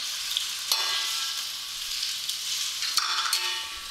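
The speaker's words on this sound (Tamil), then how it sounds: "தக்காளி இப்போ சேர்த்து வதக்கிடுங்க மூணு தக்காளி எடுத்திருக்கேன்" Three apple tomatoes sautéing in a pan for tomato rice, giving a bright, steady sizzle up close, with a couple of distinct scraping stirs and spoon clicks.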